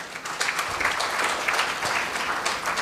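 A conference audience applauds during closing remarks, a steady wash of clapping from many hands, moderately loud and heard alone without talk.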